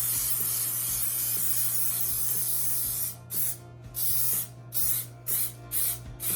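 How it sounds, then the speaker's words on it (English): Cooking spray greasing a pan, a continuous close hiss for about three seconds followed by several short bursts of spraying, with no talking. "So I have some cooking spray here."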